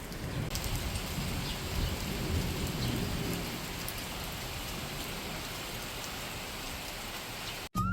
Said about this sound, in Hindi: और यहाँ इतनी तेज़ बारिश हो रही है